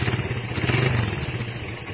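A motorcycle engine idling quietly after a few minutes of running, a steady low, throbbing putter with light mechanical clatter, close and continuous with no talking.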